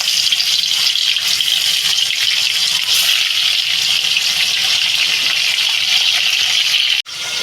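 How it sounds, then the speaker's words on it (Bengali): Rohu fish dropped into hot oil in a home kitchen, frying with a steady, loud broadband sizzle that holds evenly throughout, briefly cutting out near the end. "তেলটা গরম হয়ে গেছে বন্ধুরা মাছটা দিয়ে দেবো"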